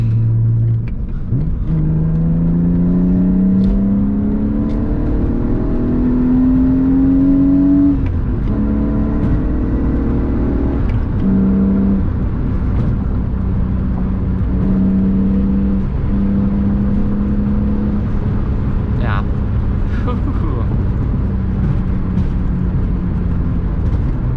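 A BMW E36 with a 3.38 differential accelerates up a highway on-ramp, its engine note climbing steadily through the gears with brief dips at shifts, heard from inside the car over constant road and wind noise.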